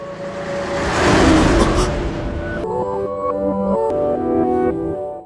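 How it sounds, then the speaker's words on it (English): A speeding car approaches on a street, a rising rush of engine and road noise that swells loud, then cuts abruptly into a different, tonal sound partway through. "she doesn't notice a speeding car coming and Yuta tries to help."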